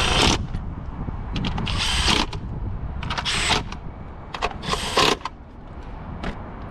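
A ratchet tightens spark plugs on a Honda Accord engine, making bursts of rapid clicking with short gaps in between, close and fairly loud, with no voices.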